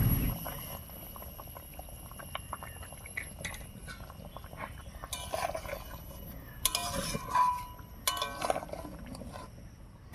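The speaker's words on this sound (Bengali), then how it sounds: "গরম মশলা বাটা দিয়ে আরও একটু রান্না করে নিয়েছি" Banana stem curry simmering in a pan after garam masala paste goes in, with soft bubbling and occasional utensil clinks and scrapes, moderately quiet and with no talking.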